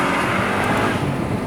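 A Mercedes engine hums steadily from inside the car while driving, a dense, even broadband drone with road roar, brief and uninterrupted.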